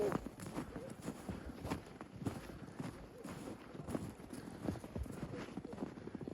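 Rhythmic clip-clop of a mare's hooves at a walk, fairly faint, with soft voices murmuring in the background.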